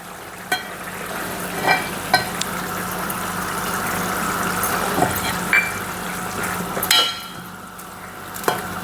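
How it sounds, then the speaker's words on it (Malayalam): Thick first-press coconut milk is poured into a gently bubbling fish curry, with soft simmering, occasional clinks and stirring scrapes of a utensil against the pan. "ഒന്നാം പാൽ ഒഴിക്കാം"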